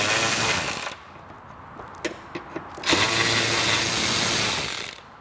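A ratchet with a 10mm socket loosens seat fasteners on a modern Vespa scooter, giving a loud, close, rapid clicking whir in two long runs separated by a pause with a few short clicks.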